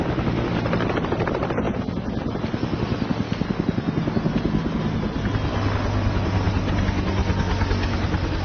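A helicopter tracking a car along Highway 94 drones loudly and steadily throughout, its rotor chop pulsing under a dense engine roar with no speech.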